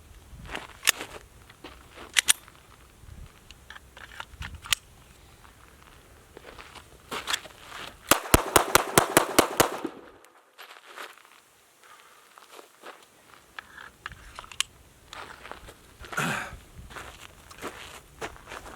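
A .22 pistol fires a rapid string of about ten sharp shots in quick succession, a tight burst that stands out from scattered light knocks and footstep-like handling noises around it.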